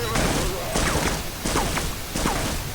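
Machine gun fire in Half-Life, four quick spaced bursts, each with a whooshing ricochet, under someone talking.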